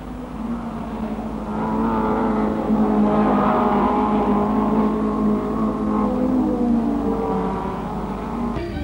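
Saloon cars racing on a circuit in 1963, the field including a works-entered Mini, heard as a steady, fairly loud mix of several engines droning and revving together, swelling as the pack draws nearer.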